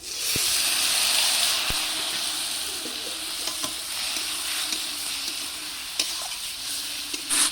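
Loud, steady hissing sizzle of bitter gourd frying in a pan, with a few scattered clicks of stirring.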